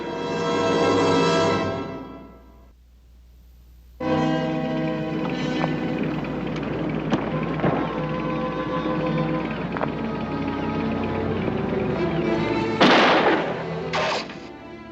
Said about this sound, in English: The first shots would be warning shots to make me come to the surface.